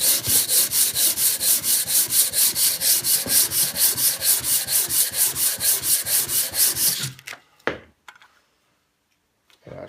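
A rusty bench plane sole rubbed back and forth on abrasive with a dab of 3-in-1 oil, giving steady rhythmic scraping strokes for about seven seconds before it stops, followed by a few faint knocks.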